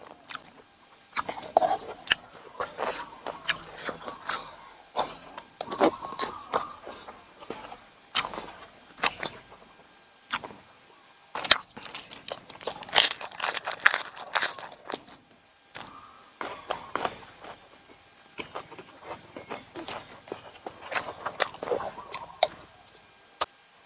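Crunchy chewing of blanched dory fish dipped in spicy sauce, a long run of crisp crackling bites in irregular bursts, close and fairly loud, with no talking.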